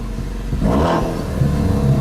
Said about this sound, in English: I am now going to jump into the Focus RS and fire it up with my new Mountune exhaust system